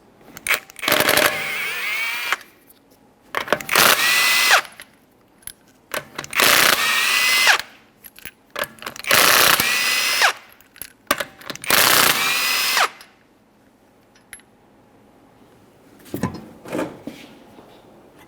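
An impact tool on a Toyota Sienna wheel gives loud, close bursts of rapid rattling, each lasting a second or two, while removing the five 21mm lug nuts, with clanks and handling noises between bursts.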